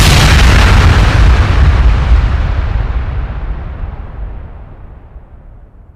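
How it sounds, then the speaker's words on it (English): An explosion at a television centre rendered as a loud deep boom that starts at full force and rumbles away in a long, slowly fading tail lasting several seconds, with no voices. "An explosion has occurred at a nearby television centre."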